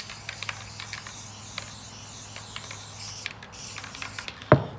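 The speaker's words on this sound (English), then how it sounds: "I'm definitely applying a liberal amount of the spray adhesive to it" Spray adhesive hisses from a can onto a fabric soundproofing panel for a recording booth ceiling, coming in a series of short, close bursts over a quiet room background.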